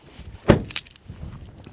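A single sharp car door thump, close and brief, outdoors beside an Isuzu MU-X, followed by faint shuffling and handling noises.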